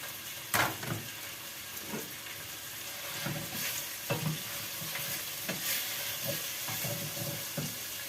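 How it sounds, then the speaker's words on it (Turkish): Meat sizzling in hot oil for a Turkish vegetable and meat türlü stew, with steady crackle, punctuated by occasional stirring clinks and scrapes, no voices. "şimdi ısınan yağımın içine etlerimi koydum."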